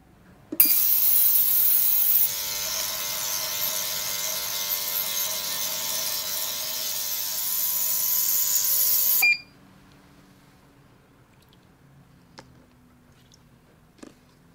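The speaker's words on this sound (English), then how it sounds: "Now I'm going to wash off the excess resin in the ultrasonic cleaner." Ultrasonic cleaner washing excess resin off a small 3D-printed part, a bright steady high hum that starts with a click, runs about nine seconds and cuts off, leaving faint clicks afterward.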